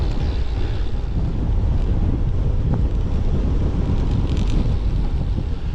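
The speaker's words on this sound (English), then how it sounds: "it's about 7 degrees and about 15-mile-an-hour wind, so it's very windy." Loud, continuous wind of about 15 mph buffets the microphone on a cold bike ride, a low rumbling roar that never lets up.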